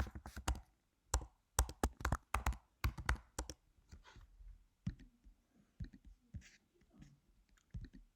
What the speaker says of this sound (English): And then we start typing.